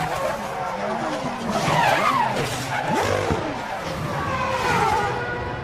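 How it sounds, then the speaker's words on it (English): Timo Glock's Toyota Formula One car spins out during the 2008 Australian Grand Prix, a loud sustained screech of skidding tires with swooping engine pitch and roaring race noise. "Until a hefty spin wiped him out of the race"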